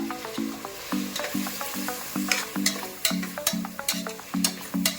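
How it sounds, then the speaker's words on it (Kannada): Chili paste and tomatoes fry and sizzle in a pan for mutton biryani, with steady stirring scrapes and a repeating low tonal pattern running underneath. "ಚೆನ್ನಾಗಿ ಫ್ರೈ ಆಗಬೇಕು"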